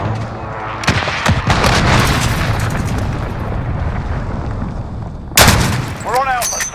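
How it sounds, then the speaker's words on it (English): A precision airstrike in a military shooter video game lands as a continuous roar of booming blasts and rumbling detonations, then a sharp, loud explosion near the end under faint in-game chatter. "Be advised, friendly precision airstrike inbound."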